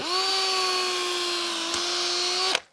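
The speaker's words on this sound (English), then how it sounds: "And then you drill holes," A power drill whirs steadily at a constant pitch for a couple of seconds while drilling holes in twigs for a garden trellis, then stops abruptly with a small knock.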